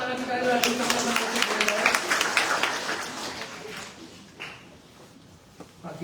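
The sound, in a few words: church congregation clapping hands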